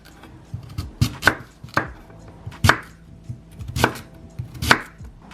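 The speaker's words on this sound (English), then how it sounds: "And now we're going to chop them just like this." Sweet potatoes being chopped with a sharp knife on a cutting board, five or six distinct crisp knife strikes at an uneven pace, close and clear, with no talking.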